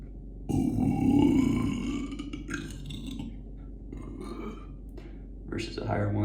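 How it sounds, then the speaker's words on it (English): Deep, drawn-out low-pitched belch made on command by a man, close to the microphone and lasting a couple of seconds, followed by quieter talk. "you can pitch your burps. So like if I wanted a low one"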